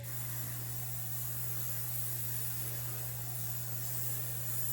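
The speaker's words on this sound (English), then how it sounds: "I'm gonna spray some hairspray." A steady, continuous hiss of hairspray from an aerosol can, close and even, running without a break from start to finish.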